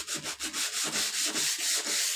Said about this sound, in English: I'm sanding in the direction of the grain